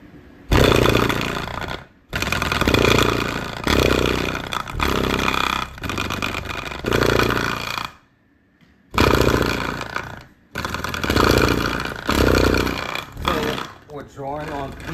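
A Sundown Audio ZV5 12-inch subwoofer with its surround removed is driven hard at about 97 amps, giving loud, distorted buzzing bass bursts in several sustained runs with a short silent break midway.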